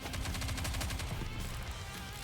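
Rapid automatic gunfire from the NIKKE video game, a fast steady stream of shots that fades into a low rumbling tail, with no talking.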